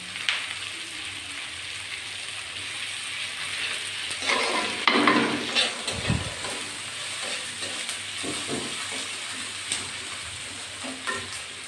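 Grated ginger goes into onions already frying in a pan, raising a close, busy sizzle with stirring scrapes and bursts of crackle as it hits the hot oil.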